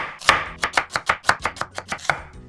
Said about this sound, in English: then I'm gonna slice this diagonally